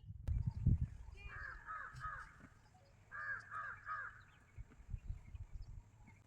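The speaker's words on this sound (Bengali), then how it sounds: "ওই দেখো আবার কাক।" A crow caws in two short bursts of harsh repeated calls in the jungle of Pench Tiger Reserve, over a low rumble and faint voices.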